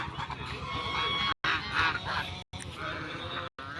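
Several ducks call in loud, nasal honks and quacks, overlapping and repeating close by, with brief gaps of silence between bursts.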